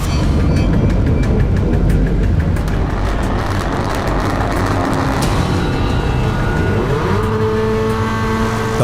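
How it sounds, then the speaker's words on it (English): Rallycross race cars at the final round of the 2018 America's Rallycross season, including Subarus and a Ford, launch off the start line with loud, close engine roar and rising revs as they accelerate away, with no talk. "The light goes green and the cars blast off the line."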